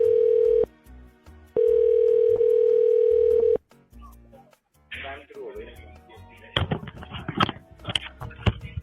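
A telephone tone rings while on hold with a scam call center: two long steady beeps separated by a gap, then a recorded voice speaks over the line.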